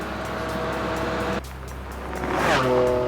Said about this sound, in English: pushing his Ferrari to nearly triple the speed limit